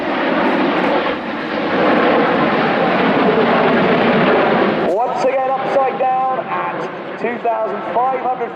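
Red Arrows jets flying the tight Big Vixen formation at the Royal International Air Tattoo 2016 give a loud, sustained jet roar for about five seconds, then fade as a voice talks over the fading engine noise.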